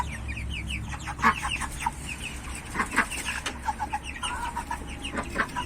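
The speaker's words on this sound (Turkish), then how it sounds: "Horoz." Chickens cluck and squawk close by in a busy farmyard, with short repeated calls overlapping throughout.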